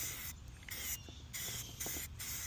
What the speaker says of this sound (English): you just go ahead with spray painting.